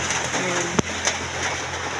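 Rain falls in a steady, moderate hiss with a single sharp knock partway through.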